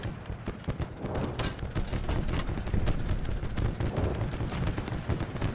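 Dense, continuous rattle of World War I battlefield gunfire in Over The Top WWI, with rapid overlapping shots and machine-gun bursts at steady loudness throughout.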